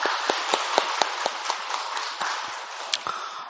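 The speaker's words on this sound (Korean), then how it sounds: "영광의 박수를 주님께 돌리십시다" A church congregation at a Sunday worship service breaks into sustained applause, a dense, even wash of clapping with a few sharper claps popping out, fading slightly toward the end.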